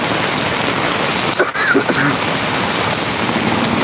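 Steady, loud monsoon rain pours onto surfaces as a constant hiss across the whole stretch, with a brief faint bump partway through and no clear voices.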